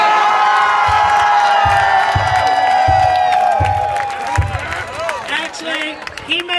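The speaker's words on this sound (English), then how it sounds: "Clap for him" A comedy club crowd at a drag queen's show claps, whoops and cheers loudly, with shouting voices and a rhythmic beat of applause that thins out toward the end.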